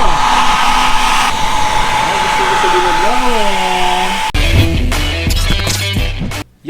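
An electric blower roars steadily and loud for several seconds, its whine shifting in pitch as it is swung about outdoors, then gives way to rougher mixed noise near the end.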